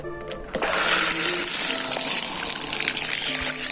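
Water gushing and trickling steadily as it flushes through a filter during snail farm culture maintenance, a continuous splashing flow that follows a couple of faint knocks.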